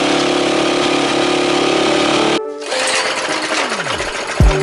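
A dirt bike engine running at a fast, buzzing idle, loud and close, that cuts off abruptly midway, followed by a falling whine and a brief roar near the end.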